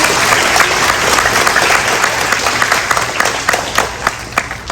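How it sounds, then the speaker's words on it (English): Steady audience applause at a school musical performance, a dense, loud wash of many hands clapping continuously with scattered sharper claps standing out. "So we give Mrs. Fayor a round of applause."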